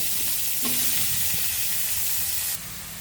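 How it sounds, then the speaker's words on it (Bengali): Spring onion greens sizzle in hot oil left from frying potatoes in a wok, a steady close hiss with a brief stir partway through before the sizzle drops quieter. "আলু ভাজা তেলের মাঝে ওই কড়াইতে আমরা এখন পেঁয়াজ কলিগুলো একটু ভেজে নেব"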